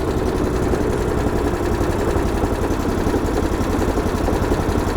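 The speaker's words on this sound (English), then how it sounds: "I want to see the engine should just continue to idle" Replacement engine on a DR chipper, model CP55047BMN, idles steadily with a low, continuous rumble and vibration, loud and close with no talk over it.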